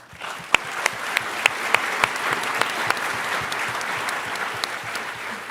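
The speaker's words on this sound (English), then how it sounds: "Give her a round of applause" An audience at a startup pitch competition claps in a steady round of applause, with a few sharper nearby claps standing out against the dense crowd.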